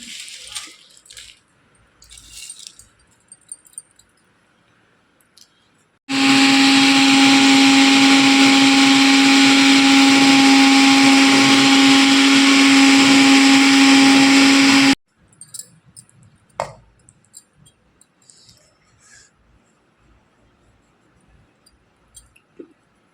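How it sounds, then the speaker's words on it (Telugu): A mixer grinder runs alone for about nine seconds, loud and steady, pulverising whole garam masala spices including cardamom into powder, a continuous motor whine with rattling grit, preceded and followed by faint kitchen clatter. "ఇదైతే మొత్తం ఇందులో వేసుకొని మిక్సీ పట్టేసుకుందాం"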